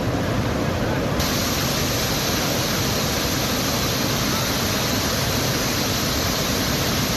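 Floodwater from the Chandrabhaga river in Rishikesh pours past a bridge like a waterfall, a dense, unbroken roar of rushing water that stays loud and constant throughout.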